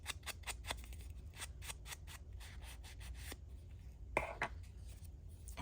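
Ink being dabbed around the edges of a paper matchbook flap in a papercraft project: a rapid series of soft, close scratchy dabs and brushing rubs at an uneven rhythm, with no talk.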